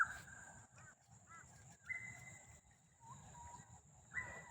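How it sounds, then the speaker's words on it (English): An unfamiliar wild bird calls outdoors in Brisbane, a few short, clear calls scattered through a quiet morning backdrop of faint insect hum, with no talking. "I've never heard that bird before."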